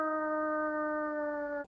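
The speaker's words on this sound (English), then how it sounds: "Many people think of wolves howling at the moon" A wolf howls in one long, steady, sustained tone that holds clear and loud for well over a second, then cuts off abruptly, heard alone.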